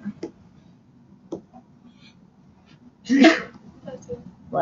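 A single sharp sneeze bursts out mid-clip during a classroom lesson, loud against quiet room tone, with faint clicks and soft background sounds before and after.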